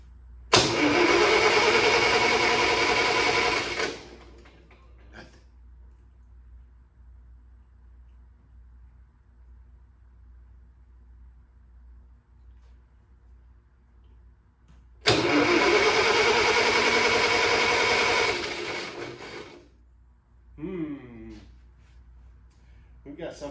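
An International 140 tractor engine cranking while hot-wired with the key bypassed: two long bursts of loud cranking several seconds apart, each cut off abruptly, with quiet gaps between and brief talk near the end.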